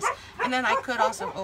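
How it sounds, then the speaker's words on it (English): A small dog yips and barks a few times at close range in a home craft setting, the short bursts mixed with someone talking over them. "I'm sorry, that's my dog."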